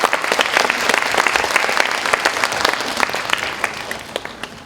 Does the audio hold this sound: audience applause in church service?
yes